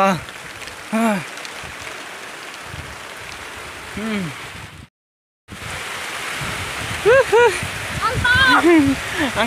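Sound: heavy rain

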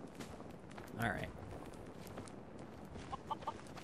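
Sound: chicken clucking in the Fallout 4 video game

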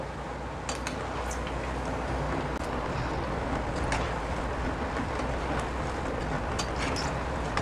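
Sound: rice pakoda crackling while frying in oil

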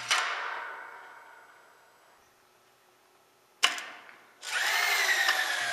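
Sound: power drill driving wood screw

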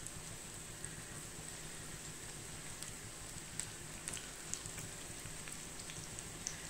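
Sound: snack dough frying in hot oil

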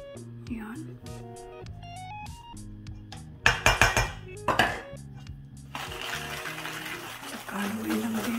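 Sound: stirring Oreo cake batter with a utensil in a bowl

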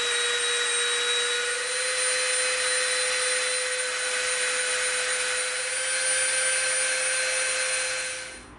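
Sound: rotary tool rounding the edge of EVA foam

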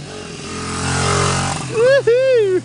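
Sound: 1982 XR80 motorcycle being ridden past

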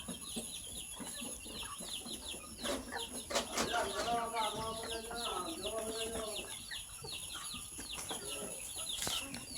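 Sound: native country chickens clucking in a shed

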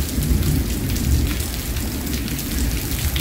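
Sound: rain falling

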